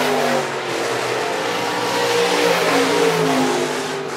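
Sport mod race cars on a dirt track at Phillips County Raceway roar together as they accelerate at the green flag, a loud, sustained, layered engine drone with rising revs from a close field of cars.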